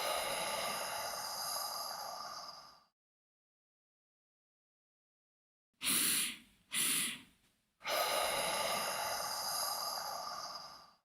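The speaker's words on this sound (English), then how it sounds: "The Cyclic Sighing group was supposed to do 5 minutes of breathing. So I'll actually act it out." A person demonstrates cyclic sighing breathing: a long, loud airy exhale, a pause, then two quick sharp inhales followed by another long audible sigh out, close and alone.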